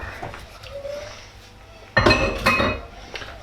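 A utensil scrapes and clinks around a bowl while spices are stirred into a chicken marinade, soft at first, then a louder burst of knocks and clatter near the end.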